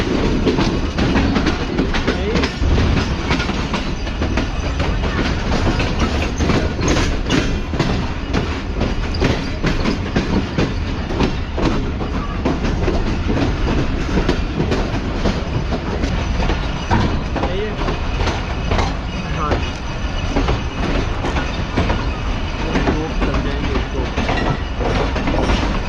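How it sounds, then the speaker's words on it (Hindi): Karachi Express train rolling into Hyderabad Junction platform 2, a loud continuous rumble with steady clickety-clack of wheels on rail joints throughout, close and dense with no pauses. "तो ये हैदराबाद जंक्शन के प्लेटफॉर्म नंबर 2 पर अप्रोच बना रही है ट्रेन हमारी आज"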